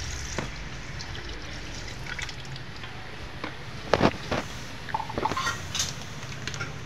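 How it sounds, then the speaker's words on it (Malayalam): Milk is poured into a container for an Oreo milkshake, a soft trickling stream with a few light knocks and clinks, close by and without talk. "നമ്മൾ പാലൊഴിക്കുകയാണ്"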